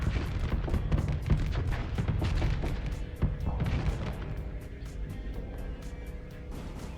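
Mortar fire in the space combat game Starsector, a dense barrage of repeated booming impacts and blasts, heavy at first and thinning toward the end.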